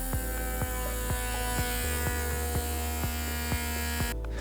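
Electric hand pump vacuum sealing a Luvele glass container, a steady motor hum with regular rhythmic pulses about every half second, running continuously until it cuts off near the end.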